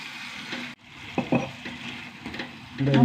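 Chicken curry being stirred and fried in a pan, with a low sizzle beneath several close scraping and knocking strokes of a spoon against the pan, no voices.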